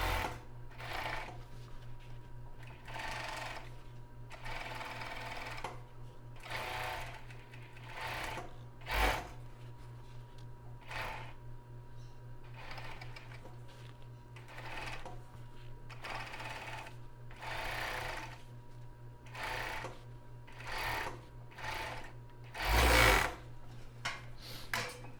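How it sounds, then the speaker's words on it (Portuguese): An overlock sewing machine stitches a finishing seam along the lace edge of a strapless topper, running in repeated bursts of rapid mechanical whirring with short pauses between, close and steady over a low constant hum. "Agora eu vou passar uma costura aqui, fazendo um acabamento de overlock"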